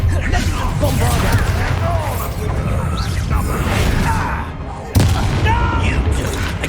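A Bombarda explosion spell cast in Hogwarts Legacy during a hard-mode battle: heavy booms and whooshing blasts over a loud, continuous din of combat, with a sharp impact near the end and voices talking throughout.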